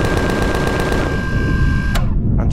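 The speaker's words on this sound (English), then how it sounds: "chain guns on their own are weak as hell, but 6 of them in tandem" Six chain guns fire together in Empyrion as a dense, loud, continuous mechanical rattle with a steady whine, cutting off abruptly near the end and leaving a short tail.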